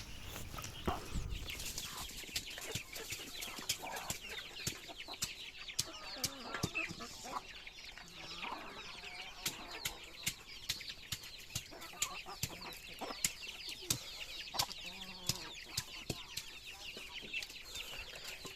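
Chickens clucking softly and pecking at food nearby, with frequent sharp little taps and scratches over a low, steady background.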